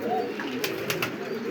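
A pair of Kagzi pigeons feeds three chicks at once, their soft, steady cooing murmuring low throughout, broken by a few short, brighter flutters or squeaks near the middle.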